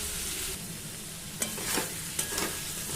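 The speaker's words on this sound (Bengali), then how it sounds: "তাও 5 মিনিট ভাজবো আমি আরও" Spices fry in a pan for a Bengali-style fish curry, with a continuous close sizzle and crackle, broken by a few sharp scraping stirs of a utensil against the pan.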